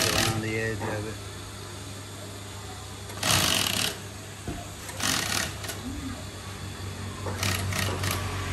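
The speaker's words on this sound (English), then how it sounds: "He's sewing on the red thing that goes around the edge of it." A sewing machine stitches red edging around a piece, running in several loud, steady whirring bursts with pauses between them, close by over a constant hum, with faint voices in the background.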